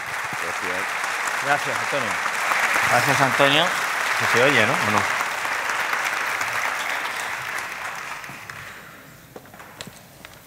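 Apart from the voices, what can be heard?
audience applause for the speakers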